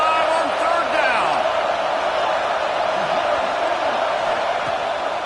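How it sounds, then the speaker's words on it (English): Ohio State Buckeye football crowd cheering loudly during a third down against Baylor, a steady dense roar filling the stadium throughout. "The Buckeye crowd alive on third down."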